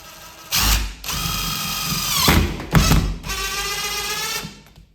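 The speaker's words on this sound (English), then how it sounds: "And then we'll use our drill driver, but we're not going to over tighten it." A cordless drill driver driving screws during a honey house build whirs in three short bursts, its motor pitch sliding down as each screw tightens, with brief pauses between runs.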